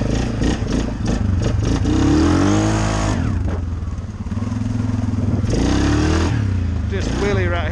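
An off-road vehicle's engine on a rocky mud park trail roars and rises in pitch as it lifts into a wheelie, loud and close, with voices heard over the engine.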